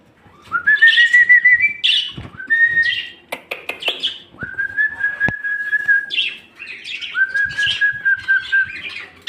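Loud, close budgerigar calls while feeding: long, steady whistled notes broken by quick chirps and short bursts of twittering, with brief pauses between phrases.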